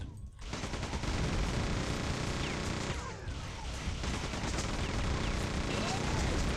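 Dense, continuous gunfire in a Quake 2 remake, rapid overlapping shots and explosions filling the whole stretch at a steady, loud level with no pauses.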